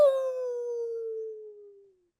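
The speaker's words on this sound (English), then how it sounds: "You hear a long howl" A long werewolf howl sound effect: a single sustained wail that starts strong, slowly slides downward in pitch and fades out after about two seconds, heard alone and fairly close.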